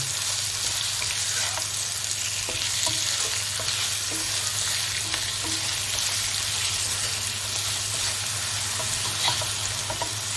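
Chicken pieces with turmeric, chili and green chili fry in a pan for turnip chicken gravy, a steady moderate sizzle broken by occasional scrapes and taps of a stirring spoon over a low constant hum.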